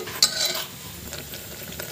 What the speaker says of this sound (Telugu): ఇందులో నుంచి ఆయిల్ డివైడ్ అయ్యేంత వరకు బాగా ఇలా గరిటతో కలుపుతూ ఉండండి